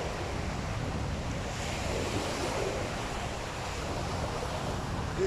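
Indian Ocean surf at a beach resort shoreline in Diani, Kenya, a continuous loud wash of breaking waves mixed with wind rumble on the microphone.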